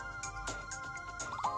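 A bright electronic notification chime with a few quick tonal pings and a short rising flourish near the end, played alone in a brief burst over a steady background.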